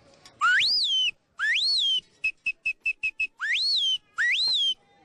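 A human voice whistles an imitation of a hawk's call: long rising-and-falling shrill whistles, then a quick run of short sharp pips, then more swooping whistles, loud and close with no other sound.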